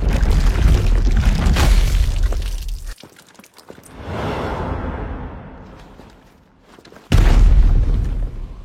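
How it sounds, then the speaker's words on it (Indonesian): A grenade blast in an anime battle against a kaiju: two heavy booming bursts separated by a quieter rumbling stretch, loud and close, with no talk. "melempar sebuah granat untuk menstun makhluk itu"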